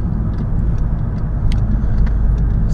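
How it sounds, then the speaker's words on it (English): A 2011 VW GTI with a DSG gearbox and a replaced mechatronic unit accelerates at full throttle, heard from inside as a steady loud engine drone that swells slightly midway. "I'm gonna accelerate, I guess full throttle, just to show that it, you know, it shifts normally, doesn't slip or nothing like that."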